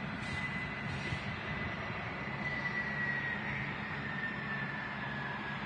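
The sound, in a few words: Phenom 300 jet engine at airport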